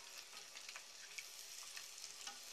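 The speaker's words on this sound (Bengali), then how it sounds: "এবার আস্তে আস্তে পুরিটাকে ভেজে নিতে হবে" Puri frying in hot oil gives a soft, continuous bubbling sizzle with small crackling pops, even and unbroken, with no voices.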